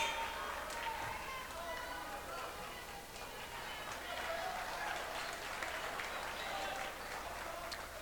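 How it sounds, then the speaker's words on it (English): A home crowd at a basketball game applauds as a player comes off the court, steady moderate clapping from the stands with an announcer talking over it. "Dylan Christensen comes out of the game to applause from the VH crowd"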